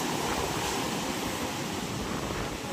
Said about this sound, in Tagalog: lalaki na ng alon.